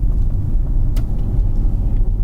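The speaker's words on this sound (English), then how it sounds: "If I punch it in this rear-wheel drive model" A rear-wheel-drive single-motor Hyundai electric car accelerating hard, with a steady low rumble of road and motor noise from inside the cabin and no talking.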